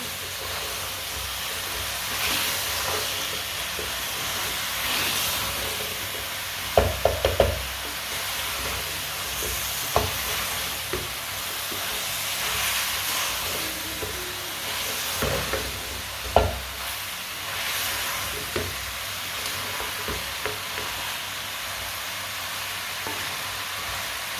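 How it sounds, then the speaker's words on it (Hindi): Potatoes cooking in a pan for aloo gobhi while a spoon stirs them, a steady loud sizzle and hiss broken by several sharp clinks and scrapes of the spoon against the pan. "आलू को भी ऐसे ही चम्मच चलाते हुए ना पका लेना"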